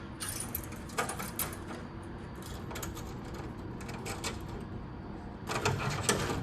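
Metallic clinks and rattles as a metal tube slides into mounting holes during an ICE PMK installation, with scattered light knocks and a cluster of sharper clatters near the start and end.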